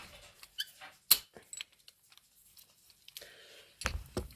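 A hound dog's toenails click sharply on a hard floor, a few sparse taps near and far, with quiet stretches between them.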